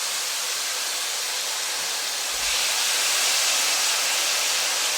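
Marinated steak strips frying in a hot pan give a steady broadband sizzle, growing slightly louder partway through as more meat hits the oil, with no talking.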